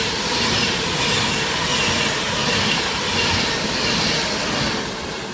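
A Class 390 electric train on the Euston to Glasgow Central service runs through platform 1 at Tamworth station, a steady loud broadband roar of wheels and rushing air sustained throughout without any pause.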